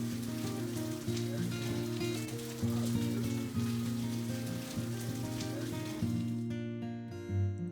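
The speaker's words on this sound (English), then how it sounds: "the rain that we knew was coming started." Rain falls steadily at a temple on Oahu, a soft, even patter and hiss on hard surfaces that runs under prominent background music with sustained chords throughout.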